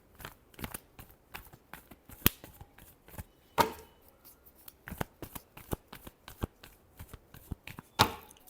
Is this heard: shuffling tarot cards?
yes